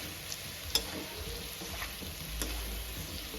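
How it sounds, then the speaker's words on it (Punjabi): Turmeric cooking in a pan for amla pickle, a quiet, steady sizzle with a few soft stirring taps, low and even throughout. "ਤੁਸੀਂ ਇੱਕ ਚਮਚ ਇਹਦੇ ਵਿੱਚ ਹਲਦੀ ਪਾ ਦੇਣੀ ਹੈ ਔਰ ਉਸ ਨੂੰ ਪਕਾ ਲੈਣਾ"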